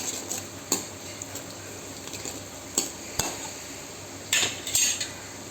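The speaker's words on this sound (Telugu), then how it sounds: "జీడిపప్పులు సగం వేగిన తర్వాత కిస్మిస్ వేస్తే చక్కగా ఏగుతాయి" Cashews and raisins fry in ghee under a faint steady sizzle while a metal spoon stirs and clinks against the pan in scattered sharp taps and scrapes, close by, no one speaking.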